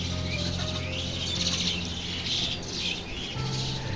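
Myna birds chirp and twitter beside a village pond in the morning, a busy flock of bright overlapping calls running steadily throughout, with a low steady hum beneath.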